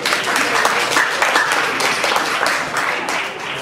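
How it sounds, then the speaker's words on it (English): An audience at a feng shui talk applauds, a loud, fairly dense run of clapping with some individual hand claps standing out, easing slightly toward the end. "give a round of applause to yourself"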